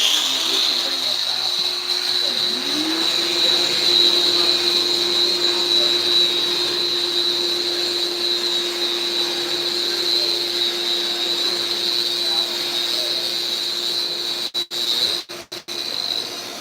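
Power tool cutting the end of a quartzite countertop, a loud steady high whine with grinding noise that holds for about fourteen seconds, then stutters and cuts out near the end.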